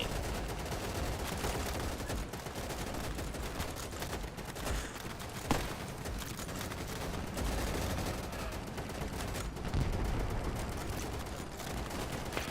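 Dense, continuous gunfire and fusillades in the World War II shooter Easy Red 2, set in France 1940, with rapid overlapping shots, a few louder nearby bursts and a constant battle din throughout, no voices.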